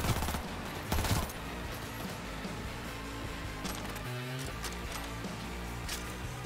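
Shotgun fire in the video game Cyberpunk 2077: a couple of loud blasts near the start, then sharp bursts and clatter over a busy background of game music and effects.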